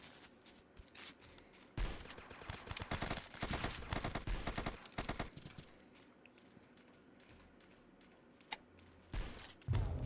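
Gunfire in the online battle royale game Zombs Royale sounds as rapid, crackling bursts of shots. They are dense and loud in the middle stretch, then thin to scattered single shots and one last burst near the end.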